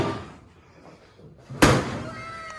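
The trunk lid of a 1965 Ford Mustang shuts with a single loud, close thunk after a quiet moment, followed by a brief fading ring.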